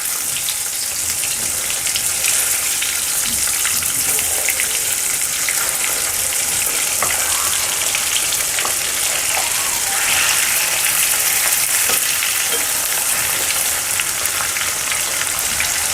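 Whole fish fry in hot oil over a medium flame, giving a steady, dense sizzle and crackle that holds without a break, close and fairly loud, with no talk over it.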